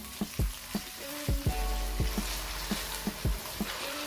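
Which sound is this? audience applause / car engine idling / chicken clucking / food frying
food frying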